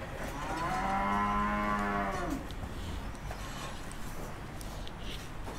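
Cattle at a dairy farm with cows for Qurbani sale: a long, loud, close moo lasting about two seconds, then only low rumbling barn ambience with no voices.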